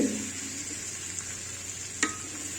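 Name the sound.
bitter gourd frying on the stove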